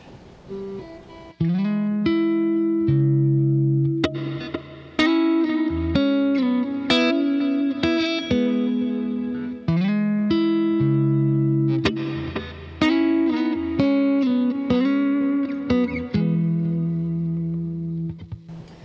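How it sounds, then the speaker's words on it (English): Electric guitar played alone through the neck pickup of a Squier Classic Vibe 50's Stratocaster with Bill Lawrence Wilde Microcoil pickups, chords and single notes ringing out, warm and full, coloured by chorus-like shimmer and light distortion. "let's go ahead and check out how the neck sounds on this guitar"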